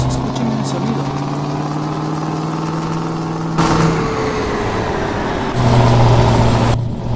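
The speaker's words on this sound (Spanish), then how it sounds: "El freno motor parece que engancha" Scania R520 truck in Euro Truck Simulator 2 running with its engine brake engaged: a steady low diesel drone with shifting pitch and surges partway through, heard continuously at close range.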